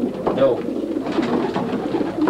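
Racing pigeons coo in a loft in Ulster. Their soft, throaty calls repeat steadily and close by, with a person briefly speaking among them.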